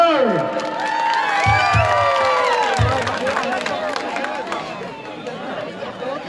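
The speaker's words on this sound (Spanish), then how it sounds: "fuerte los aplausos, por favor" Crowd at a live concert in San Joaquín cheers and claps, a dense roar of voices and whistles filling the space, with shouting and chatter mixed in throughout.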